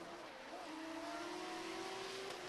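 A drift car at the Oman International Drift Championship runs through the last corner, its engine droning at high revs with a rising pitch, heard continuously and somewhat distant at a low level.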